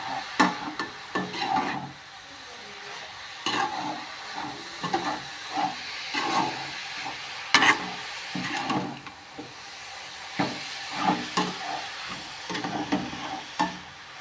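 Beetroot stir-fry sizzles in an oil-filled kadai while a spatula stirs and scrapes it in repeated bursts, with a steady hiss of frying between the strokes.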